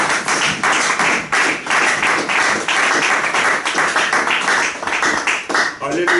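A church congregation applauds the word of God with sustained, dense clapping filling the space, steady and loud throughout, with faint voices mixed in near the end.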